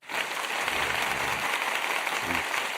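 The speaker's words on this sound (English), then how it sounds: "I gotta do another applause for her." Applause on a podcast talk show, a dense, steady burst of clapping that starts abruptly and holds at an even level, with brief low voices murmuring underneath.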